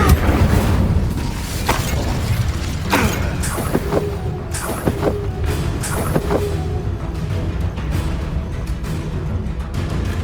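A fire spell cast in the video game Hogwarts Legacy: loud whooshing bursts and booms amid dense combat noise, with sharp transient hits recurring every second or so over a steady rumbling background.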